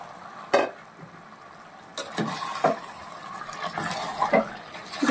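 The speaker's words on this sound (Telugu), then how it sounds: "ఇప్పుడు కడిగి పెట్టుకున్న మాంసం వేస్తున్నానండి" Washed country chicken meat drops into frying curry in a pressure cooker, giving several wet thuds and stirring scrapes over a low steady sizzle, close up.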